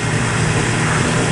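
A 2008 Suzuki Hayabusa motorcycle pulling under throttle while riding, a loud, close, steady low engine roar blended with wind rush.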